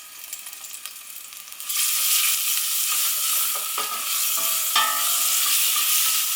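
Spring onions and sun-dried tomatoes go into a hot pan for a warm orzo pasta salad: a quiet start, then a loud sustained sizzle as they hit the oil, with stirring clinks.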